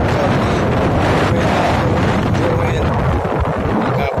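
Strong outdoor wind buffeting the microphone in an open pechay field, a steady loud rumbling roar that fills the whole clip.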